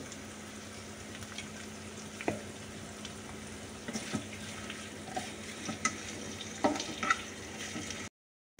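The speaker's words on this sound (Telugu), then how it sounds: "ఇప్పుడు ఉల్లిపాయ వేగిపోయింది, క్యారెట్ వేసేసుకుంటున్నాం." Onion frying in a pan for a carrot fry, with a steady low sizzle throughout and occasional soft clinks and scrapes, heard close with no talking.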